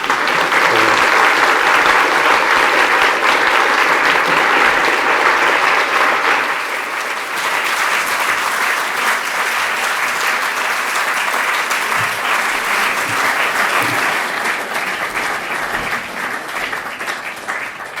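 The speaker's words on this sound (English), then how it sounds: "That applause and its warmth and length, I think, says everything about your talk" A lecture audience gives warm, sustained applause at the end of a talk on Celtic art and identity, a broad steady wash of clapping that eases slightly partway through and carries on to the end.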